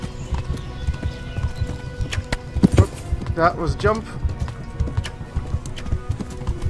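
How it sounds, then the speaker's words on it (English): A horse gallops in the video game Kingdom Come Deliverance, with rapid, steady clip-clop hoofbeats running throughout while someone talks over them. "Come on, horse. Gallop, gallop. Go for it, horse."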